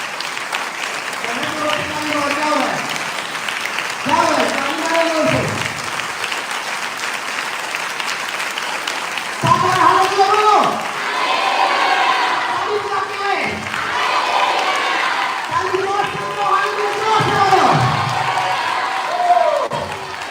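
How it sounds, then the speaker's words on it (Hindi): A church congregation claps loudly during Sunday worship, with sustained applause and crowd noise while a preacher's voice and shouts rise over it at intervals. "और जोर से, ऊपर वाले में जोर से, जोर से ताली बजाओ।"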